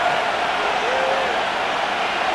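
A stadium crowd in Madden NFL 25 roars in a steady, dense wash of cheering noise that holds at a constant level throughout and sits beneath nothing else.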